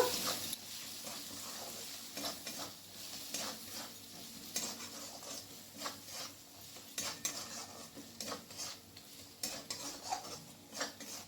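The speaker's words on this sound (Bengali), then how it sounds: "এরপর আমি মশলাটাকে ভালো করে কষিয়ে নেব।" Spices sauté in a pan for Bengali chana dal (cholar dal), giving a soft, steady sizzle broken by frequent light scrapes of a spatula against the pan. The sound is fairly quiet and close, with no talking.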